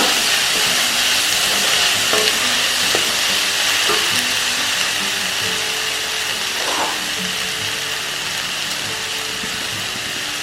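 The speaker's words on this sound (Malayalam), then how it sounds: "നമ്മളിതിലേക്ക് ഒരു മൂന്ന് തക്കാളി വലിയ തക്കാളിയാണ് അത് അരിഞ്ഞത് ചേർക്കുകയാണ് അത് നന്നായി ഒന്ന് ഇളക്കി കൊടുക്കുക" Three large chopped tomatoes fry with onions in a pan and get stirred, making a loud, continuous close sizzle and hiss with a few brief scraping strokes and no talk.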